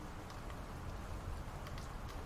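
Steady rain falls alone in an even, close wash of hiss, with a few scattered drop ticks on top.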